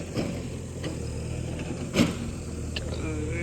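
A Toyota Innova driving along a red-soil road in the Konkan, heard from inside the cabin as a steady low road and engine rumble, with a brief thump and a voice speaking over it.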